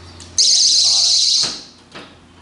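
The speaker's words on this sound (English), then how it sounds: "Non-locking cabinet has a door alarm, and so we can turn that on and off." A door alarm on a non-locking allergy emergency kit hallway cabinet gives one loud, steady high-pitched electronic tone lasting about a second, then cuts off, leaving a quiet room.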